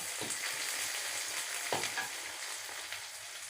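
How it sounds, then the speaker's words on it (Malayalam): Mustard seeds spluttering in hot oil for a bitter gourd and beetroot pickle, a quiet, steady sizzle broken by a few sharp pops, heard alone without voices. "അപ്പം കടുക് പൊട്ടിഞ്ഞ് വേപ്പിൽ കൊടുക്കാം"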